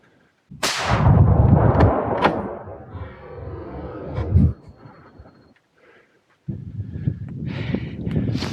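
A single hunting rifle shot fired at a deer in New Zealand bush booms loud and close, followed by a long rumbling echo that fades, then rustling and movement nearby.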